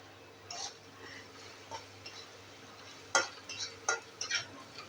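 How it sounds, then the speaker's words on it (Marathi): Grated coconut stir-fried in a pan during tempering, a faint soft sizzle with scattered sharp clinks of a spatula against metal growing busier toward the end. "आपला नारळ परतून झालेला आहे।"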